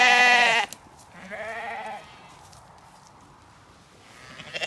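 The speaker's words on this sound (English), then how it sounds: "the wethers and the ewe lambs are meeting again for the first time since they were weaned." Sheep bleat close by, wethers and ewe lambs of a mixed flock reunited after weaning: one loud, sustained bleat, then a second softer one, with quiet outdoor background between and after.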